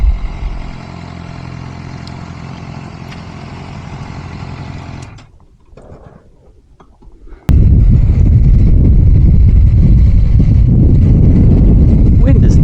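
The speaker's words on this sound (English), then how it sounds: "Wind is definitely picking up out here, that's for sure." Strong wind buffets a microphone outdoors during a motorcycle ride stop near Kingston, Ontario, a loud broadband rush that dips briefly and then returns as a sustained, heavy roar close to the mic.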